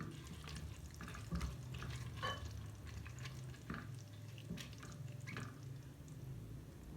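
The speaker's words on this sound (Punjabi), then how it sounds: "ਖੜੇ ਮਸਾਲਿਆਂ ਨੂੰ ਹਲਕਾ ਜਿਹਾ ਭੁੰਨ ਲਾਂਗੇ ਅਸੀਂ" Whole spices such as bay leaf, black cardamom, cinnamon and cumin roasting lightly in a pan for a paneer curry, with soft stirring scrapes and faint crackles over a low steady hiss, no talking.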